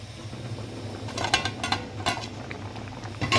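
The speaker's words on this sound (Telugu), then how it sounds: "ఇప్పుడు మనం హైలో కొంచెం మీడియం ఫ్లేమ్లో పెట్టేసి మూత అనేది పెట్టేసుకుందాం." Metal lid set onto a cooking pot on a medium gas flame: several quick clinks and rattles of metal against metal over a soft steady background hiss, close by, no talk.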